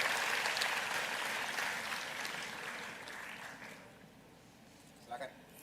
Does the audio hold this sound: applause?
yes